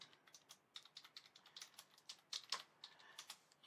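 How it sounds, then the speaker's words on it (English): Keys tap on a computer keyboard in a quiet office, a quick irregular patter of soft clicks heard close and faint, with no voices. "and start typing."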